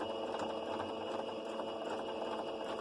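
A sewing machine runs in reverse to stitch back over the end of a seam on a dress being altered, giving a steady, close mechanical whirr with a quick repeating stitch rhythm, alone without talking.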